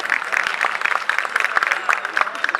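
An audience at a poetry gathering breaks into lively applause, dense uneven clapping with sharp individual claps standing out, steady and fairly close for the whole stretch.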